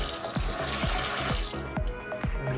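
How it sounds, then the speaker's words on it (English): Tap water runs steadily into a container, a continuous rushing splash with rising gurgles as it fills, close and fairly loud, with no voices. "We'll just go ahead and fill it up with water again."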